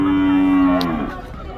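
A cow gives a loud, close, drawn-out moo at the Caruaru cattle fair in Pernambuco, a steady low call lasting about a second before fading into crowd noise.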